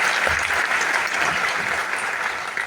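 Sustained audience applause from a crowd honouring mothers, a dense, steady wash of clapping that holds at an even level throughout without any voices over it.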